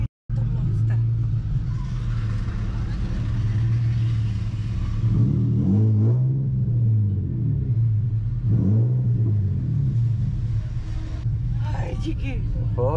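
A car driven hard while drifting gives a steady engine drone with rising and falling revving sweeps, while people talk inside the vehicle throughout.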